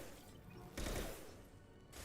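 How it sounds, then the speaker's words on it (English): Gunfire in the Mass Effect video game: a dense, noisy burst of shots lasting about a second, fairly loud and close, followed by a quieter stretch of battle ambience. "We're taking fire."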